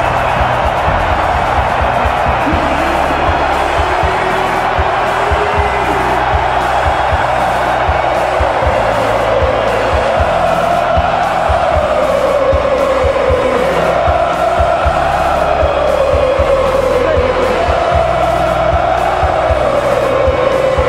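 A European soccer stadium crowd roars in a loud, unbroken wall of cheering and chanting that rises and falls in pitch and never lets up.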